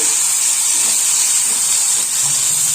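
Tomatoes and green chillies cooking in a pan for chicken curry give a steady, close sizzling hiss that runs evenly and alone for the whole stretch.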